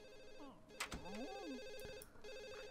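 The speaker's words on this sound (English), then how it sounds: "Let's go and answer the phone." A telephone rings repeatedly in The Sims 1 game, its electronic trill pulsing steadily beneath clicks and other game sound effects, moderately loud and close.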